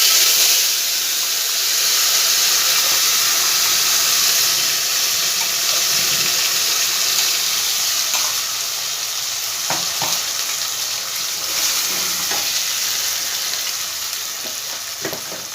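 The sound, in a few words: ground spice paste frying in hot oil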